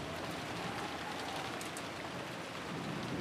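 Steady rain in the Umineko visual novel game, a soft continuous hiss of falling drops with light scattered patter, constant and fairly quiet throughout with no voices.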